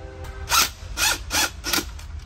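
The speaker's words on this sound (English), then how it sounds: "3/8 inch socket, and the Phillips will tighten these up" 3/8 inch socket ratchet tightening the screws of a Mercury outboard control box, four quick raspy clicking bursts in a steady rhythm, close and clear with no talking.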